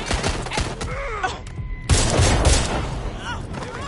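Gunfire in the Watch Dogs Legion video game: a rapid burst of shots, then a louder blast partway through and a dense clatter of fire with rumble, mixed with faint game voices.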